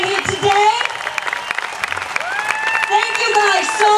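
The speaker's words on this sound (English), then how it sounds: "Can we please give our veterans a big old round of applause?" An audience at a rally gives veterans a loud round of applause, with steady clapping and crowd noise continuing throughout. A speaker's voice rises over the crowd.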